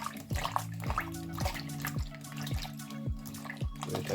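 Cut breadfruit is washed in water, with a series of regular splashing, dripping knocks roughly every half second over a soft, continuous watery background.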